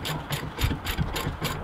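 A ratchet working loose the 18 mm brake caliper carrier bolts on a BMW E38/E39/E53 front brake, with rapid rhythmic clicking in quick regular strokes, close and clear.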